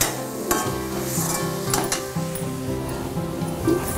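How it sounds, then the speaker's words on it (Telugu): Grated coconut and jaggery fried and stirred in a pan, soft sizzling under repeated scraping strokes and a few sharper taps of a spoon against the metal, close and steady without talking. "కొబ్బరి బెల్లం ఇంకా కొంచెం వేగాలండి."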